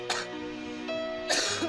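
A person coughs twice, short harsh bursts near the start and end separated by a pause, close and moderately loud over a faint steady hum.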